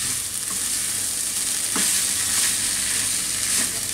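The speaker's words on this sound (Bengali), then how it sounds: "এটাকে একটু ভালো মতো মিশায় অল্প একটু ভাজবো।" Cooked rice with tomato being stir-fried in a pan, a continuous bright sizzle with a few scraping stirs of the spatula against the pan, close and loud, no voices.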